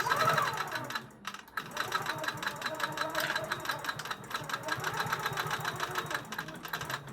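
A sewing machine stitches down the seam of a quilted top with a Costco blanket as backing, producing a rapid, even chatter of needle strokes with a brief pause, close and moderately quiet.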